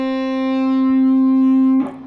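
Distorted electric guitar from a solo holds one long sustained note, loud and alone, then breaks into a brief noisy pick scrape at the end.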